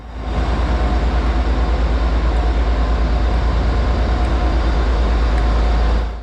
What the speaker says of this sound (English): let's pop outside as our train is arriving.